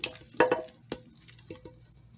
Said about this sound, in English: I'm going to go ahead and add our beef in